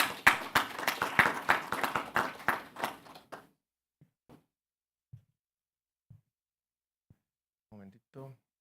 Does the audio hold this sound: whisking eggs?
no